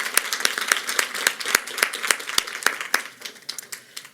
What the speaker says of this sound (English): Let's please give our students another round of applause.